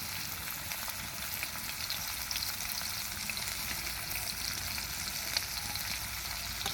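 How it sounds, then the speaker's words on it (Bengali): Chopped onion and green chilli fry in hot oil over a clay stove, giving a soft, even, continuous sizzle at low volume with nothing else over it. "তেল আমার গরম হয়ে গেছে বন্ধুরা, ওর মধ্যে আমি পেঁয়াজ কুচি দিয়ে দেবো।"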